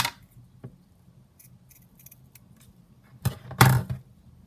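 Scissors snip through a piece of ribbon at a crafting table, making a couple of sharp, close cuts after mostly quiet moments with faint handling clicks.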